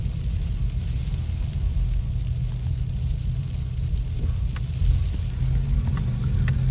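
Heavy sleet pounds on a car in Big Bear, California, as a dense, constant hiss and patter over a low engine rumble inside the vehicle, steady throughout with occasional sharper ticks.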